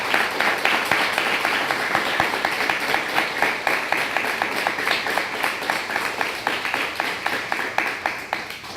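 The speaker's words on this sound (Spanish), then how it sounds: "Aplausos para toda la..." Studio audience applauding at the opening of a church program, steady rhythmic clapping from many hands sustained throughout at moderate level, with no voices over it.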